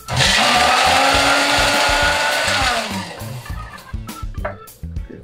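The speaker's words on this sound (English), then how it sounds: "Stick blender makes all the difference." A stick blender whirs loud and steady through a cocktail with crushed ice for about three seconds, its pitch sagging as it works, then cuts off into clinks and small knocks of glass and ice.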